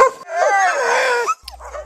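Excited sled dogs whine and yelp in a long, high, wavering cry at harnessing time before a winter mushing run, loud and near, ending in a short bark.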